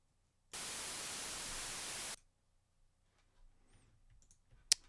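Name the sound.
white noise generated in Harmor synthesizer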